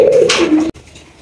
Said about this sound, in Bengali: এখানে রয়েছে একজোড়া বোম্বাই কবুতর